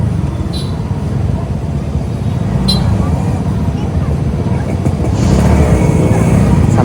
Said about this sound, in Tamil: செம்ம டிராஃபிக்கு.